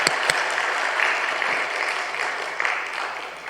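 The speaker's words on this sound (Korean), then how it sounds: "우리 박수로 한번 환영해 주시겠습니다." A crowd applauds steadily throughout, a dense wash of clapping that fades slightly at the end.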